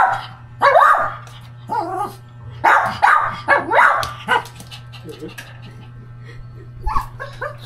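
An angry Shih Tzu barks and yips in sharp bursts, close and loud, with whimpering in between, while people talk nearby and a steady hum runs underneath.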